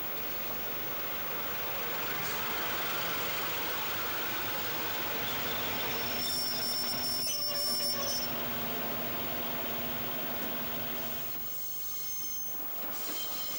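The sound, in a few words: Sprinter diesel train departing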